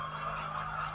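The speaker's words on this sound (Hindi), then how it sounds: "ये देख लो मुर्गी, कितनी मुर्गी है यहाँ पे?" Thousands of hens on a village poultry farm create a dense, constant clucking murmur over a steady low hum, close and evenly loud throughout.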